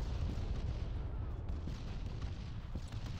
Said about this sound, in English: that exploding over there is really not helping my confidence about moving up